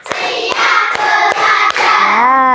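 Five crisp claps in a steady rhythm as a classroom does its rhythmic focus-clapping routine, loud and close, with children's voices sounding throughout.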